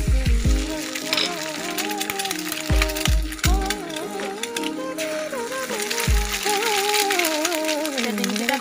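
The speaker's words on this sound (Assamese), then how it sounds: "এতিয়া এইখিনি সময়তে মই ডিম দুটাও ইয়াতে ভাজি ভাঙি দি দিওঁ।" Eggs frying with onions in a pan on a gas stove, a steady sizzle under a tonal background with a few low knocks and bumps from the pan.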